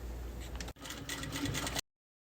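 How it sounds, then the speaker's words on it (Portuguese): Sewing machine stitching a fabric strap on a small vanity case, a steady close mechanical whir running in two bursts with a brief pause between, then stopping. "Vamos levar agora pra máquina, que eu escolhi costurar, e a gente vai passar uma costurinha nessa alça."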